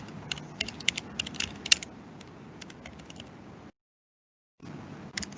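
Assignment instructions being typed on a computer keyboard, a run of close, irregular key clicks that pauses into brief silence before the tapping resumes.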